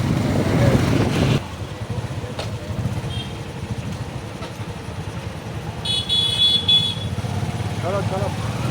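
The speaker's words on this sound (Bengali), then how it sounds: "দেখতে পাচ্ছেন সেই সামনে কারিমুল্লা যাচ্ছে বাইকে করে।" A motorbike passes along a village road, its engine a steady drone under the background noise, and a horn toots briefly. Someone talks near the start.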